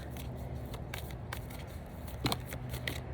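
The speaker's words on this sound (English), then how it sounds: "Let me shuffle this deck" A deck of tarot or reading cards being shuffled by hand, quiet crisp riffling and slapping bursts at irregular intervals over a low background hum, close and soft.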